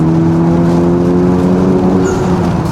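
Honda Civic Type R engine pulling hard through fourth gear with the window down, a loud, steady rising drone with strong low harmonics filling the whole clip, wind rush behind it and a brief high whistle near the end.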